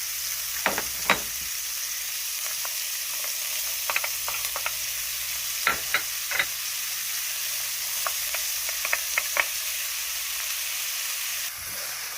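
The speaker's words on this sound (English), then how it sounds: "we're going to go ahead and put our vegetables in and let these saute" Vegetables sautéing in grapeseed oil in a pan, a soft steady sizzle with scattered crackles and pops, close and fairly quiet, with no talking.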